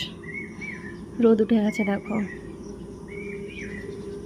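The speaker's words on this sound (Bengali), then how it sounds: "আর কি সুন্দর পাখি ডাকছে" Faint, bright bird chirps sound in short bursts before and after a voice speaking over steady outdoor background noise.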